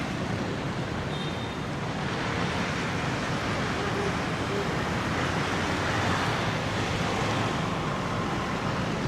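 Steady beach ambience at Da Nang, a continuous broadband wash of surf and wind with no distinct breaking wave standing out, even in level throughout.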